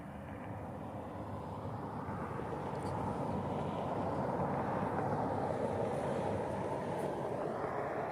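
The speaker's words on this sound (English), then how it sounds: "Sounds like we have a C-130 that's might be going up behind me." A C-130 military transport aircraft takes off near Davis-Monthan Air Force Base, a steady distant engine roar that swells gradually louder throughout.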